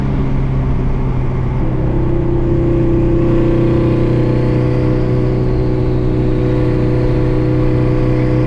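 A twin-turbo Subaru car engine holds a loud, close, sustained revving drone with a steady tone that climbs slightly over several seconds and does not let up.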